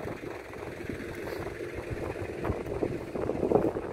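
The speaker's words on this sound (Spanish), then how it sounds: "Aquí vemos cómo el tractor va preparando el suelo" Sonalika 60 RX tractor working an agricultural field to prepare soil for rice planting, a steady low engine rumble with churning noise that grows slightly louder toward the end, moderately distant.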